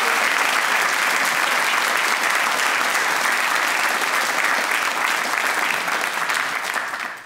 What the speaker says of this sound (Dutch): Geef hem een daverend applaus.